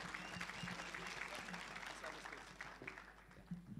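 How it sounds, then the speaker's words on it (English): An audience applauds once more at a pitching event, steady clapping filling the room while voices talk over it. "Can we please give him a round of applause once more?"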